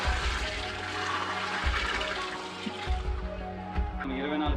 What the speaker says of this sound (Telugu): అలా మనం వడ్లు మునిగేంత వరకు నీళ్ళు పోసుకోవాలి.